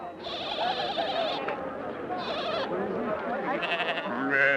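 Sheep bleat several times in loud, wavering cries over busy background noise at a market in Kabul, Afghanistan, in 1980, with more than one animal calling close by.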